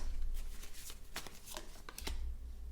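A tarot card is slid and laid down on a table during a cartomancy reading, a few soft papery swishes and taps, faint and close, with no talk over them.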